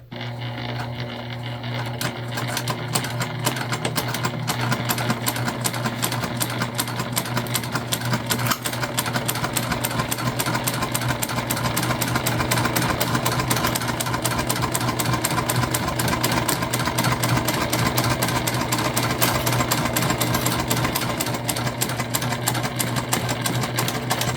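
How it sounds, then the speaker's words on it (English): A sewing machine stitches a full seam on a candy bag, its motor running loud and close in one continuous rapid, rhythmic chatter throughout. "And then we're going to stitch this on, full seam allowance."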